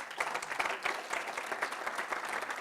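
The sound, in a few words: audience applause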